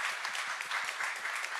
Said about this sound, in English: Maybe we can give him one applause